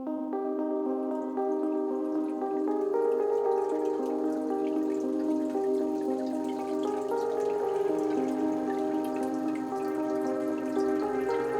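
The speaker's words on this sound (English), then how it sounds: "I need to do something about the noise of water dripping back into the, well, let's call it pool on the bottom" Water from a small terrarium waterfall drips and trickles continuously into a bottom pool, a steady close-up splashing with a faint tonal ring throughout.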